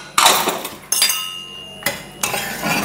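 A pressure cooker lid is opened after cooking toor dal and taro stems for a Kerala tamarind curry, giving several sharp metallic clanks and clinks spaced about a second apart, close and fairly loud.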